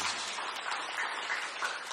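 Audience applause in a church service, a steady dense wash of clapping filling the whole stretch at moderate level with no voices over it.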